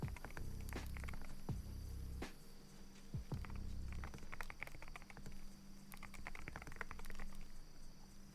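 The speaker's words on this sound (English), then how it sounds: "It's a nice keyboard" Fast, light clacking of keys on a keyboard bought for writing, with irregular bursts of taps and a few heavier thumps, close and fairly quiet over a steady background hum.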